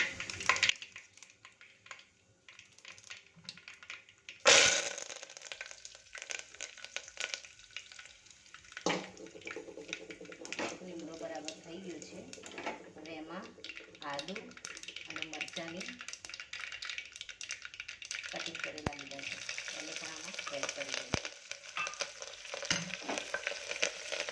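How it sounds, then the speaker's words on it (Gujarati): Curry leaves drop into hot oil already crackling with mustard and cumin seeds, setting off a sudden loud burst of sizzling. Steady frying and stirring follow, with a voice talking over it. "સરસ તતડી રહ્યા છે હવે એની અંદર આપણે લીમડાની બે ડાળી નાખી દઈશું"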